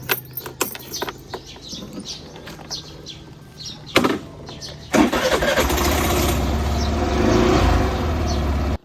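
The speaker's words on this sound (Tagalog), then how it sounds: "Ato na nga patingugon ang ato ang motor aning tong ora." A motorcycle engine cranks briefly after some handling noises, then catches and runs with a steady, loud idle before it revs up a little, heard up close outdoors.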